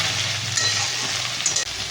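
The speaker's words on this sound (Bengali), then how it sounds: "সোয়াবিনটা দিয়ে একটু ভাজা করে দিয়ে তারপরে মশলা কষা দেবো" Soybean chunks sizzle steadily as they fry in a pan, a close, continuous frying hiss with a brief dip near the end and no talking.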